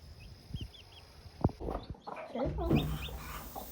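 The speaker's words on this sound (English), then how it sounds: "This was on the day that the white chicken hatched her babies." Chickens, including a white hen with newly hatched chicks, cluck and call softly over outdoor background noise, with a few thumps and short bird chirps, fairly close but not loud.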